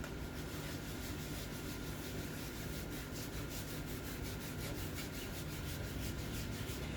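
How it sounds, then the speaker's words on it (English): A board eraser rubs chalk paste off a stencilled sign, making a continuous close, dry scrubbing sound with a quick back-and-forth rhythm. "I would just use my board eraser to remove that"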